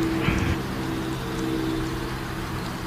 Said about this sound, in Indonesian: Ya, hujan tambah lebat.